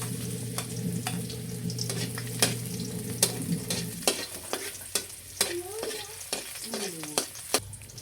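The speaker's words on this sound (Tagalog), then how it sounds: "Ako po ay magigisa na ng bawang at saka po itong sibuyas." Garlic and onion sizzling steadily in a hot pan for chicken adobo, with a spoon or spatula clinking and scraping against the pan in repeated sharp taps, close and clear, no talking.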